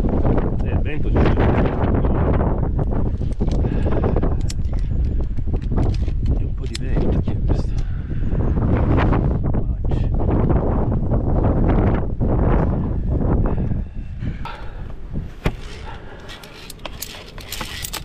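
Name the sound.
wind blowing on a via ferrata, wind noise on microphone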